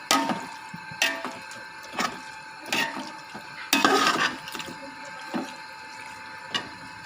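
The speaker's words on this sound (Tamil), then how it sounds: "இதை நல்லா கிளறி விட்டுக்கிடுவோம்" Beef biryani gravy being stirred in a pot with a spoon: a series of scraping, splashing strokes, irregular and fairly close, a few louder sloshes among quieter ones, with no talk.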